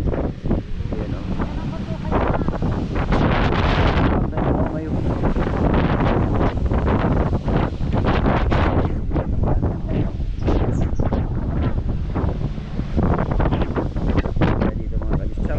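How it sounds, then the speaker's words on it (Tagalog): Strong wind buffets the microphone continuously, a loud roaring rumble throughout with no clear voices. "Sarap ng hangin."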